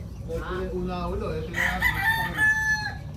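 Backyard chickens gather for feeding, with a rooster crowing close by over a busy mix of clucking and farmyard noise.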